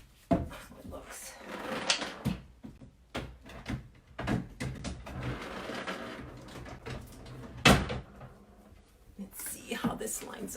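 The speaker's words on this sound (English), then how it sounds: "I want to kind of pop a drawer in and see" A wooden dresser drawer is slid into its frame with scraping, bumping thuds and a louder knock as it seats, while a person talks quietly over the handling.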